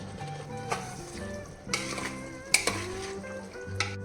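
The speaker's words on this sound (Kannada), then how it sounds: "ಈಗ ನೋಡಿ ಹೆಚ್ಚಿಟ್ಕೊಂಡಿರೋ ಒಂದು ಮೂರು ಟೊಮೆಟೋನ ಸೇರಿಸ್ತಾ ಇದ್ದೀನಿ" Chopped tomatoes are added to frying pumpkin for pulao, setting off a lively close sizzle with spoon stirs and a few sharp metallic clinks against the pan, and no talk.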